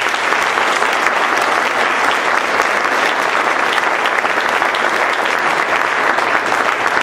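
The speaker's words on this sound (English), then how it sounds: "Please give them a round of applause." Audience applause at a state bar association annual meeting: a roomful of people clapping in an even, sustained wash throughout, with no voices breaking through.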